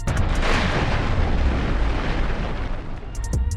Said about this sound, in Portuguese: Uau, olha essa explosão, é enorme